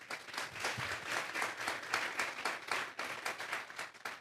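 Church congregation breaks into steady applause after a sermon, a continuous patter of many hands clapping at moderate distance, fairly soft and even throughout.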